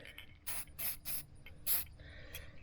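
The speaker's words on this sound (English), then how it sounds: "you want to spray it in this little area right here where your pedal is" Short hissing bursts of lubricant spray onto a folding pedal of a Lectric XP 2.0 e-bike, four or five of them in an uneven rhythm, close by, with faint mechanical clicks between.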